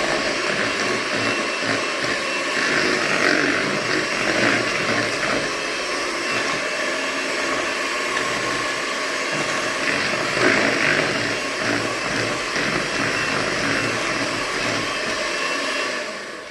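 An electric mixer whirs steadily, mixing cupcake batter of flour and baking powder; the motor's drone holds close and constant for the whole stretch, with no talking.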